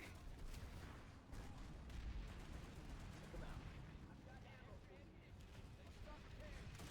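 The Godsaw machine gun fires in Planetside 2 in long continuous automatic bursts. Other battle noise is mixed in, and the gunfire stays loud and dense throughout.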